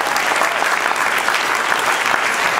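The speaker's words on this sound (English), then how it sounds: "you guys give these people a big round of applause" A conference audience gives a big round of applause: dense, steady clapping from many hands fills the room without a break, loud and close, with no talk over it.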